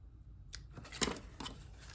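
Scissors snip through ribbon in a few quick, quiet cuts, close by in an otherwise hushed room.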